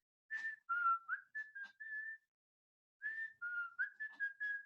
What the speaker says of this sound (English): the teacher whistles